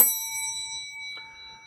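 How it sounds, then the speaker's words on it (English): A notification bell rings out with a bright, sustained ding, then gives a second softer chime about a second later while the first tone still hangs in the air. Nothing else is heard. "ring the notification bell"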